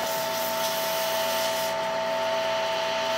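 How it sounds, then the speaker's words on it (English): Hand sanding a wood turning on a lathe with 400-grit sandpaper: a steady, close abrasive rubbing over a constant motor hum, with no talking. "let me hit that with sandpaper just a little bit. I got some 400 here."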